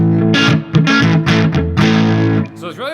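Ernie Ball Majesty electric guitar played through a clean-ish amp with its built-in 20 dB boost engaged on the neck pickup, giving loud, thick, distorted sustained chords in several strummed bursts, ending with a bent note.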